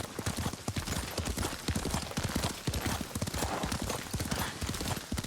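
Rapid, steady clip-clop of horse hooves at a gallop in the video game Ghost of Tsushima, close and continuous throughout, with a faint voice briefly underneath.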